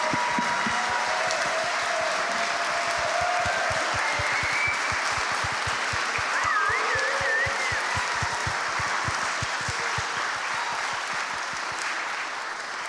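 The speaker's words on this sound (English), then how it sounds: "please stand up so we can give them a round of applause" Audience applause at a live horror game awards ceremony, a loud, dense wash of clapping sustained throughout, with scattered cheers and whistles rising out of it.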